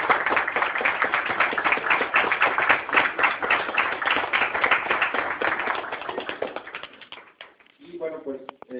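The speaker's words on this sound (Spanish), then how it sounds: "un fuerte aplauso para los invitados" Crowd applause for the invited guests at a comic convention artist's alley event, sustained dense clapping for several seconds that fades out near the end, followed by a brief voice.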